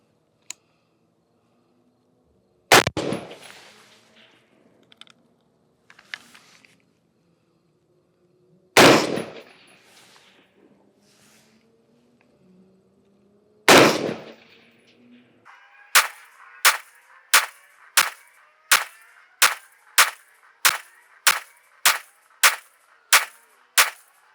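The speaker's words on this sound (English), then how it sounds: "we're gonna attempt to shoot 20 rounds through this and see if we get all 20" Rifle rounds fired through a LabRadar chronograph: three spaced, loud shots, then a rapid string of about fourteen evenly timed cracks, each sharp and close with short echo tails.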